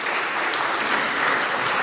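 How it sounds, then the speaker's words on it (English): Warm audience applause for panelists at a tourism ministry session, a steady, dense wash of clapping from a crowd, loud and continuous with no voices over it. "And a warm round of applause."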